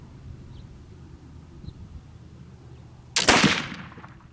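A single loud rifle shot fired while sighting in a rifle using a tallow and beeswax load outdoors, a sharp blast followed by a short rolling echo after quiet ambient wind.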